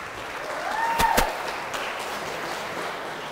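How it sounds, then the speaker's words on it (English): At an investor dinner, scattered applause from a seated crowd rises briefly, with a couple of sharp louder claps near one second, then settles into faint, thin clapping. "So a round of applause for Ray as he makes his way forward."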